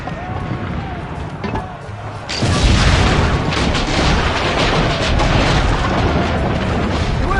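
Heavy cannon fire booms during a siege in Assassin's Creed Brotherhood, a dense, sustained roar of blasts and rumble that swells partway through, with voices shouting over it.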